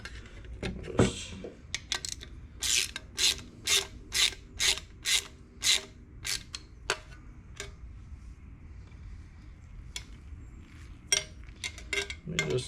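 A hand ratchet tightens bolts on an aluminum Mk60 ABS unit being installed on a Gen 2 Dodge Viper, giving a run of a dozen evenly spaced, crisp clicking strokes, then a pause and a few more scattered clicks, close up and quiet.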